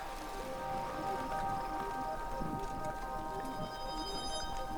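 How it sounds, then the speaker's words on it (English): Rain beginning to fall on an open field, a steady pattering hiss that holds evenly throughout, with a faint tonal hum running underneath. "Rain starts to fall, and Ron and Logman cover the 3D printer wit"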